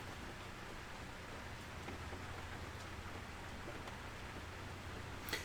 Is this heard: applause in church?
no